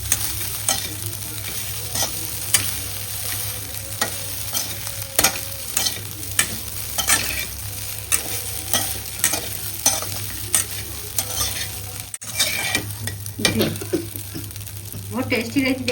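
Idli frying in oil in a pan: a low sizzle holds steady under many quick spatula scrapes and taps that come in an irregular rhythm, with a short break near the end.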